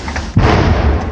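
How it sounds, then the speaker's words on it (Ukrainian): A single heavy howitzer shot from an artillery position near Toretsk, Ukraine, booms out with a sharp, loud thud and a rumbling tail, close by and alone. "Постріл пішов."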